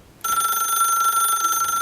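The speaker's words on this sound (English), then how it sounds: "the phone rings" A telephone starts ringing abruptly, a loud sustained electronic bell tone with strong steady overtones, close and alone.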